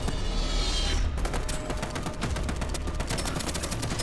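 Sustained rapid gunfire in the video game Star Siege, a loud continuous barrage of close shots with no pauses.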